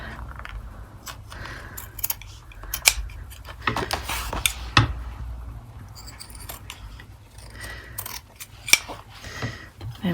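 Scissors snip through excess lace during papercraft planner decorating, a series of short, sharp cutting clicks scattered across the stretch with light rustling of paper and trim between them.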